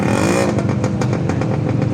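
A motorcycle passes close by on a road on Samal Island, its engine a steady loud drone with rhythmic clattering pulses throughout, no talk.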